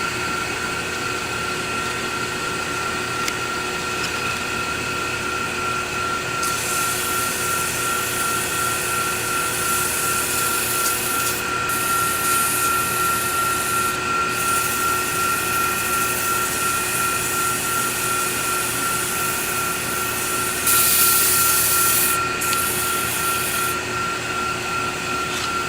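Wooden ring box being sanded while spinning on a woodturning lathe, a steady continuous motor whine and hum with sandpaper hiss, briefly brighter in places, no talk.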